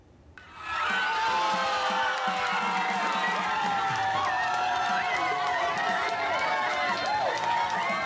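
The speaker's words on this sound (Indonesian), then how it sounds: "Acara nonton bareng di kediaman orang tua Muhammad Ferrari langsung riuh dengan teriakan penonton" A crowd at a home watch party for an Indonesia versus Uzbekistan U-23 Asian Cup football match bursts into loud, sustained cheering and shouting after a quiet first second, continuing throughout.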